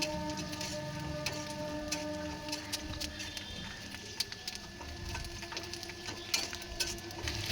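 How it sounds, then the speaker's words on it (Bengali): Peanuts frying and being stirred in a pan, a soft continuous sizzle with light patter and clicking of nuts and utensil against the pan, fairly quiet and without talk. "তাই বাদামটা আমরা ভালো মতো ভেজে নিচ্ছি"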